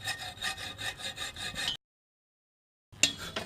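A handsaw cuts metal for a Jeep Wrangler glove box in quick rhythmic back-and-forth rasping strokes, close and crisp, then stops for about a second before a single sharp stroke resumes.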